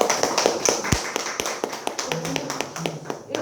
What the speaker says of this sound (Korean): 다시 한번 박수 부탁드리고요.